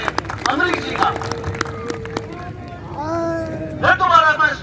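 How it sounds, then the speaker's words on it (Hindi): A crowd claps to welcome a donor at a cow-shelter gathering, with steady moderate applause mixed with crowd noise and some tonal sounds, under a loud, close PA-style voice. "जोर से तालियां बजाकर स्वागत करें अमरीक जी का।"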